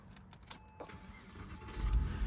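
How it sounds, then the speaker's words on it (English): A Porsche 996 engine being started: a few light clicks and shuffles, then a low rumble that swells and catches loudly near the end. "let me turn this car on"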